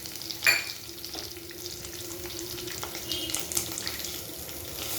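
Green chillies and onions fry in a pan for a bottle gourd milk curry, giving a soft, steady sizzle with a few brief scraping stirs, fairly quiet and close, no talking.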